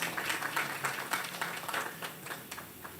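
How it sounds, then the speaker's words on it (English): A crowd at an outdoor street renaming ceremony claps for a few seconds, a moderately loud patter of many hands that gradually thins out, with no talking over it. "I think that deserves for them a round of applause"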